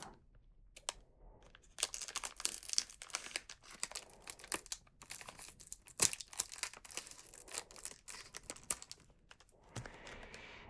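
Easter Peeps candy packaging crinkled and handled up close, bursts of sharp crackling and rustling with short pauses between them, soft overall in a quiet room.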